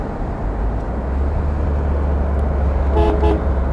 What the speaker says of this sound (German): Hupe geht auch.